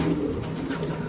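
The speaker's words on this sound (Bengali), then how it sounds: "মাশাআল্লাহ খুব সুন্দর একটা কবুতর আলাদা দেখতে পাচ্ছেন, স্প্যানিশ কবুতর নাকি ভাই?" A Spanish exhibition pigeon at a pigeon farm gives a low, close, steady coo lasting about a second.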